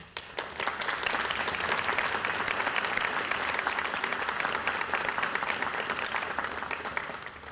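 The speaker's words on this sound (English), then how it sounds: "Class, I ask you to please join me in applauding and appreciating all of those who have supported and helped you along the way." Sustained applause from a large audience at a medical school commencement ceremony, dense steady clapping filling the hall for several seconds without speech.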